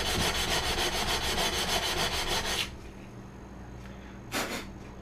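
A glass edge is buffed on a broken aquarium during a center-brace repair, giving a loud, steady abrasive rubbing that runs for a few seconds before stopping, followed by faint scattered scrapes.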